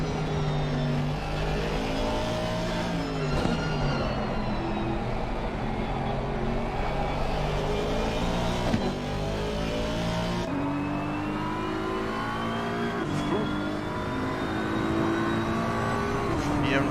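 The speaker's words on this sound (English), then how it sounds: "Listen to the V8 engine of the Aston" An Aston Martin V8 race car in a racing video game drones and revs continuously, its engine pitch rising and falling through gear changes, with other cars audible around it on a track at Zandvoort.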